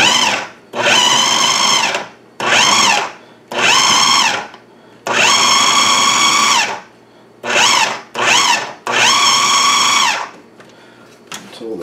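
A food processor pulses butter into small pieces for a Bakewell tart, giving loud bursts of motor whir, about eight pulses of one to two seconds each, separated by short pauses.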